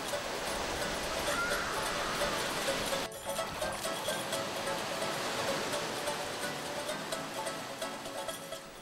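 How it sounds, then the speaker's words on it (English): Ocean waves in the reef pass at Tikehau, French Polynesia, rumble and wash steadily nearby with a continuous broadband roar and no voices. "Ivan looks at the waves of the pass"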